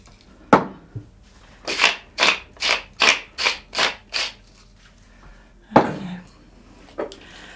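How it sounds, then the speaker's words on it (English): A spoon scrapes and stirs paprika into white sauce in a baking dish, making about eight steady, rhythmic strokes up close, with a couple of separate knocks before and after. "And give it another mix"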